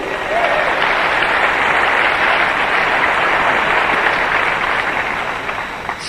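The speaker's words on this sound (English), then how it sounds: "Clap your hands, it's the truth" An audience at a public-speaking oration claps loudly, a thick, sustained roar of hands that stays level throughout and eases slightly toward the end.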